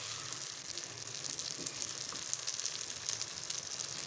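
Wheat porridge (dalia) roasts in ghee in a pan, giving a constant close sizzle with soft crackling and occasional stirring scrapes, steady throughout with no voices.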